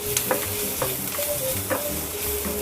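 Onion sabzi frying in a pan after dry mango powder is added, stirred with steady scraping strokes over a soft continuous sizzle, close and moderately loud with no speech.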